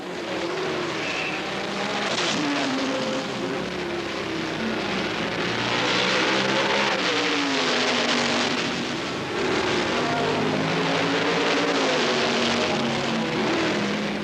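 A Can-Am race car at 1983 Mosport pulls into the pits for a fuel stop, its engine a steady rough drone with rising and falling pitch, loud and close throughout.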